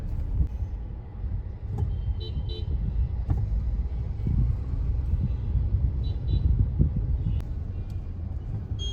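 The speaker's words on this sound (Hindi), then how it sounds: "इतना लंबा जाम है ना, गाड़ी रेंग रेंग के चल रही है।" Cars crawl through a long traffic jam, with a low, constant rumble of idling and slow-moving engines nearby and a few short horn toots breaking through now and then.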